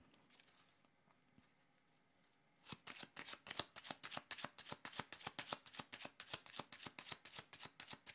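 A deck of playing cards shuffled close up, first near-silence, then a fast run of crisp riffling flutters repeating in steady bursts, loud against a quiet room.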